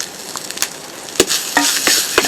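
Freshly grated coconut hits a very hot clay pan for a Kerala chammanthi, crackling and sizzling loudly up close with sharp scattered pops and scrapes over a steady hiss.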